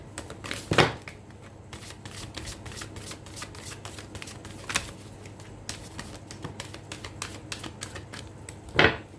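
Tarot cards being shuffled in a brisk run of soft riffling, flicking bursts, with a few sharper snaps near the start and end, fairly close and steady with no talking.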